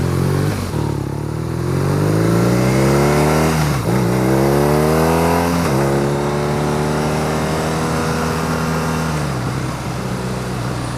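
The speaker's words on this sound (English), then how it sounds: "Just kicking the throttle a little bit" BMW R nineT boxer-twin motorcycle engine revving in neutral during a test ride, rising and falling through several throttle kicks, close and loud, with no talk over it.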